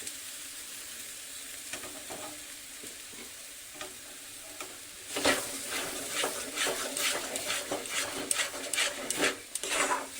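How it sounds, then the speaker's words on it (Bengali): Soybean paste is stirred in a pan, starting as quiet scattered scrapes and sizzle, then turning into louder, close, rhythmic scraping strokes against the pan with a continuous sizzle for the second half. "সয়াবিনের পেস্টটা আমি প্রায় 5 মিনিট ধরে নাড়ছি।"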